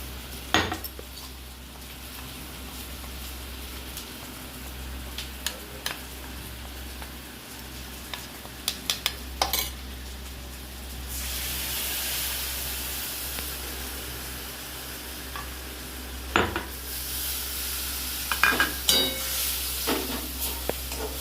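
Spice paste and prawns being stirred in a pan, a soft continuous sizzle punctuated by sharp clinks and scrapes of a metal spoon against the pan, louder hissing bursts partway through, close up with no talking.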